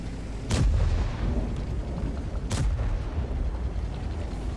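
Two loud, booming tank cannon shots ring out in World of Tanks, spaced about two seconds apart, each a sharp blast trailing into rumble over steady engine and battlefield noise.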